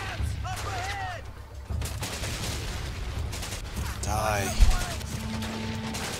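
Gunfire in the World War II shooter Medal of Honor: Pacific Assault, scattered shots and bursts in the middle distance beneath game ambience, with a person talking over it.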